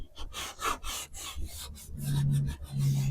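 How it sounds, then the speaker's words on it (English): A rag rubs briskly back and forth over a wooden frame to wipe off excess wax, a close series of scratchy strokes followed by a couple of longer low rubs. "I need to wipe off the excess with the rag"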